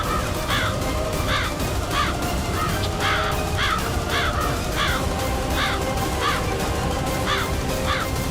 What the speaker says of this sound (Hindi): हमने तो कौवे को अब तक सिर्फ रोटी ले जाते हुए देखा है